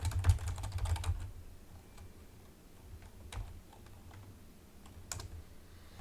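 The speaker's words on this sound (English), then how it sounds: "I'm just typing right now" Typing on a computer keyboard during a Rise of Kingdoms session: a quick burst of clacking keystrokes up front, then sparse, scattered clicks trailing off, close and fairly quiet with no talk.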